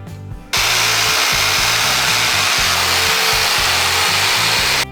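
A loud power sander grinds against a wooden truck bed on a 1966 Chevrolet C-10, a constant abrasive roar with a pulsing low hum after a brief quieter start.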